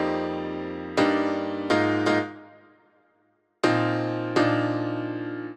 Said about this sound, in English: the main heavy lifting of the harmony is done by 2 instruments layered. One is this piano sound.